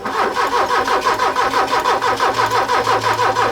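Porsche 924 Turbo engine cranking over with a steady rhythmic starter chug, loud and close, a low rumble joining near the end as it begins to catch, no voices.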